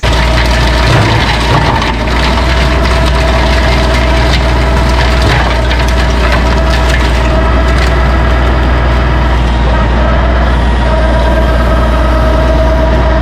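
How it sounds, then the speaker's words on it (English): MechMaxx offset ditch bank flail mower on a Coyote CK3510 tractor, a loud steady engine drone with a deep constant hum that holds unchanged from start to finish, with no voices. "the MechMaxx offset ditch bank flail mower. That is a mouthful, but it's quite the machine."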